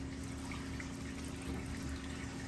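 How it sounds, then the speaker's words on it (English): Water is poured steadily from a small can into a jar of sand holding American cranberry cuttings. It makes a continuous, soft, close trickle with no talk over it. "gonna make sure I get enough water in it"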